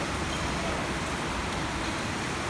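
Steady rain hisses evenly, a dense continuous wash of noise at moderate level with no other sounds standing out.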